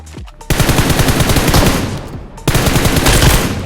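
Rapid automatic gunfire in the PUBG Mobile video game, two loud sustained bursts of fast shots separated by a brief pause.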